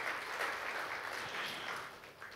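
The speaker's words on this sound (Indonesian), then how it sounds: "beri tepuk tangan dong buat Tuhan kita Yesus Kristus" Congregation at an online Christmas church service applauds in a continuous, even patter of many hands, moderately distant and fairly soft, with no talking over it.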